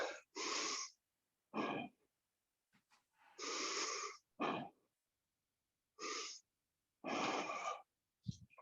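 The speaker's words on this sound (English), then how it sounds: "Keep breathing in, breathing out." Rhythmic yoga breathing during an exercise class, about eight forceful breaths in and out through the nose at a steady pace, each sharp and close, separated by brief silences, with no talking.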